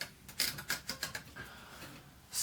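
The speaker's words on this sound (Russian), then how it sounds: "А так при вращении вала раздается характерный треск." Platen of a Moskva-4 manual typewriter turned by hand, giving a run of about eight quick, evenly spaced ratcheting clicks up close, with no voice over it.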